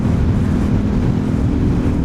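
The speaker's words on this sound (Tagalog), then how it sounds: "Lakas talaga ng hangin guys." Strong wind roars against the microphone while riding a motorcycle along a road in the Sorsogon area of the Philippines, a loud continuous low buffeting rumble with no talking.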